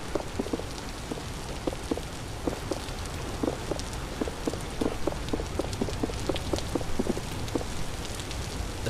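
Steady in-game rain from the survival game Vintage Story, a loud, dense patter with sharp individual drops pattering close by over a constant wash, no voices.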